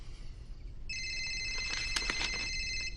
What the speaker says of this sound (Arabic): وجاوب على داك التليفون.